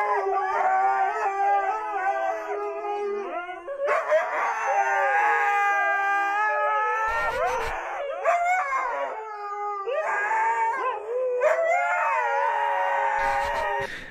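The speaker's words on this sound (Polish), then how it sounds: "jakie wielkie piesy" Big dogs howl loudly in long, wavering, overlapping cries that rise and fall, breaking off briefly between runs, with no talking.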